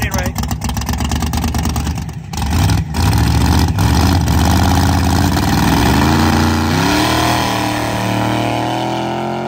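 A Chevrolet Corvette engine runs rough at a night grudge drag race in Mexico, giving a loud, close, uneven rumble. Throttle blips rise and fall in pitch over a constant roar of background noise.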